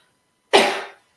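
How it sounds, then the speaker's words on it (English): A single sharp cough from one person, close and sudden, fading quickly into silence. "I have to cough."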